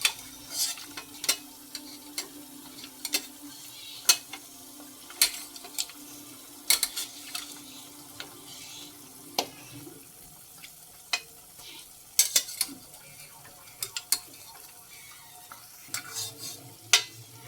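Paaya (goat or lamb trotter) pieces being stirred in a masala curry in a pot, giving soft scraping sizzle with repeated sharp clinks of the spoon against the pan at an irregular rhythm, close up and alone.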